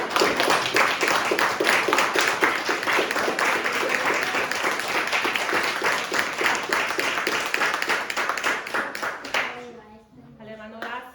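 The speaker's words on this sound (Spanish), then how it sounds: "Vamos a darle un aplauso al Señor." Sustained clapping from a church congregation at a charismatic prayer gathering, dense and steady for about ten seconds before fading out as a voice begins speaking.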